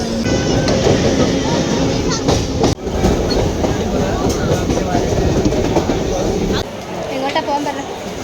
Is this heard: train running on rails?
yes